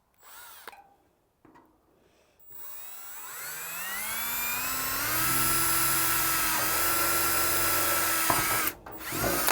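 Power drill boring a test hole in an old aircraft floor panel: a few short bursts, then a long spin-up whose pitch rises to a steady loud whine before cutting off abruptly, no talking.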